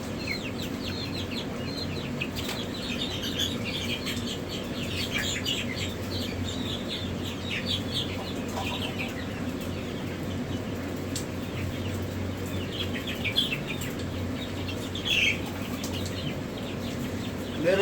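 Chickens in a hatchery, including a tiny bantam breed, cluck and crow steadily with bursts of wing flapping and chirps from nearby birds, a continuous busy barnyard din with no talking.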